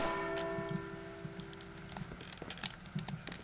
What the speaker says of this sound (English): as soon as I ring the bell, I think it releases the